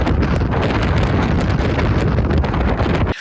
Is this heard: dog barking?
no